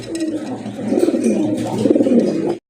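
Big white Bombay pigeons coo steadily in low, throaty rolling calls that overlap throughout, loud and close with no other sound.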